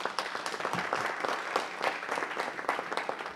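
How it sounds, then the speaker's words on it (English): Applause fills a council meeting chamber, a steady round of clapping from the audience lasting a few seconds at moderate level with no talk over it. "let's give them a round of applause"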